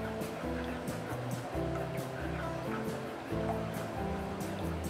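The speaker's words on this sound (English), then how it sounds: "And then I'm putting in the egg. Keep on stirring the egg." Beaten egg stirred in a hot pan or wok while frying for char siew fried rice gives a steady, close sizzle that runs without a break, with a faint tonal hum underneath.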